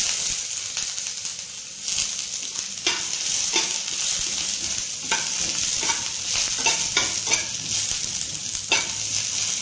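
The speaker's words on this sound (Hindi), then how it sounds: "एबे हमें सेतिरे कटा हेई रखिथिबा पियाज ऐड करबा।" Chopped onion hits a pan with ginger and garlic frying in oil for fried rice, a loud close sizzle with repeated stirring scrapes and clinks throughout.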